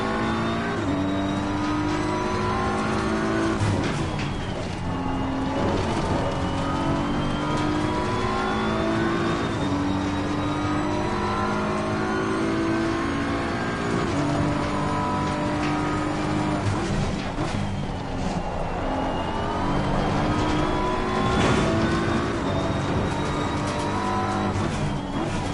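Race car engine in a racing video game, revving hard and downshifting through a lap, with tire squeal and continuous loud engine drone throughout.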